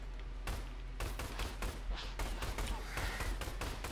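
Rapid pistol gunfire from dual handguns in the Orion: Dino Horde shooter game, a dense string of sharp shots in quick bursts that carries on steadily without a break.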